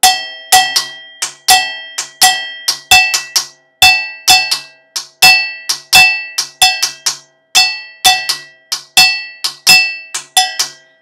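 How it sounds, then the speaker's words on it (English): A bright, dry clacking cascara pattern played with sticks on the shell of a timbale drum in a fast, syncopated repeating rhythm, loud and close, with no talking. "That's called cascara, because you play on the cascara, the shell of the drum."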